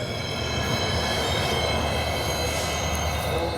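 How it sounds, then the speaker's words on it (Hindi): The Hisar Hyderabad Express pulls away from a station platform with a continuous loud rumble of railcars, steady wheel noise and a high squealing whine, near and unbroken. "हिसार हैदराबाद एक्सप्रेस का डिपार्चर हो चुका है।"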